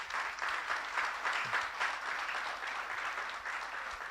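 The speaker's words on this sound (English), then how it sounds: "Ladies and gentlemen, please, a round of applause." Audience at an awards event breaking into a round of applause, a thick, steady wash of many hands clapping together that holds at an even level throughout without speech on top.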